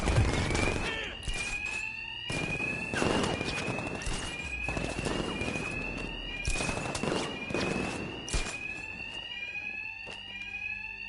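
Alarms ring continuously in Batman: Arkham Knight, a loud, steady electronic tone pulsing throughout, with a rapid clattering of repeated bursts layered over it and no talking.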